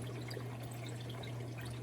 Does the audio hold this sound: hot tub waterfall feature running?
yes